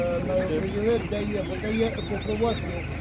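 A crowd of domestic chicks cluck and chirp together in a busy chorus at a Ukrainian animal market, with a low mechanical hum and background chatter underneath.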